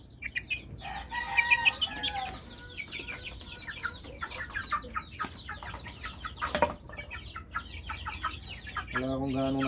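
Chickens on a small farm cluck and chatter close by in a busy, irregular flurry. A rooster crows loudly near the end.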